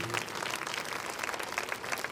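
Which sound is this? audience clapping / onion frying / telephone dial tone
audience clapping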